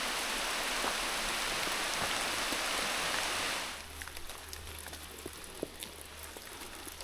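Heavy rain falls at a motorcycle campsite, a dense, loud hiss of drops that cuts off abruptly partway through, leaving quieter scattered drips over a low steady hum.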